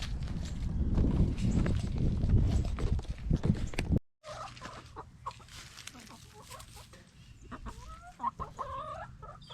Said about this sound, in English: let's take it to the chickens